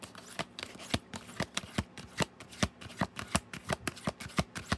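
Tarot cards are shuffled in a rapid series of crisp riffling snaps, close and loud, with a steady rhythm and no talking.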